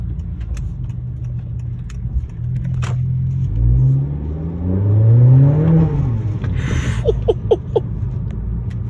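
A 2019 Honda Accord with the 1.5 engine, fitted with an AEM air intake and a new engine mount, revs up and falls back in a rising, whooshing engine sweep over a low rumble, heard up close with no talking.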